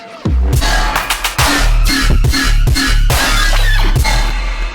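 A punchy electronic tune in a Star Wars style with a steady beat, thumping bass notes and bright synth stabs, loud and continuous with no voices.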